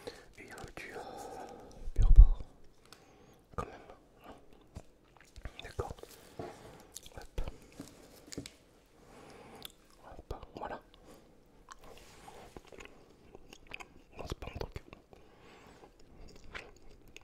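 Close chewing of a small piece of handmade artisanal charcuterie: soft wet bites and squishy mastication between quiet whispering, with one louder crunch near the start.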